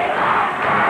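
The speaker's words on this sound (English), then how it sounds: "The crowd chanting, "We want Kurt."" Wrestling arena crowd chanting during an 80s Portland tag match, a loud, massed roar of voices rising and falling together in a sustained chant.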